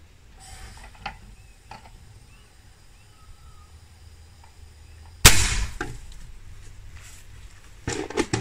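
A sharp firecracker bang bursts out after a stretch of quiet rustling, followed by crackling debris, then another loud pop near the end.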